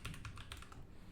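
A 75% mechanical keyboard, the Newman GM326, gives a quick run of soft, close clicks as keys are pressed in an irregular typing rhythm, quiet and alone.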